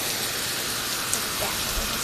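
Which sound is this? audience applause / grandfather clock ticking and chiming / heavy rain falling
heavy rain falling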